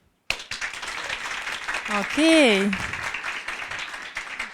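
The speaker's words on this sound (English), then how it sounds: "Show me your energy with your clapping." An audience in a conference room breaks into sudden, sustained applause, a dense wash of clapping that starts abruptly and carries on, with a speaker's voice briefly rising over it.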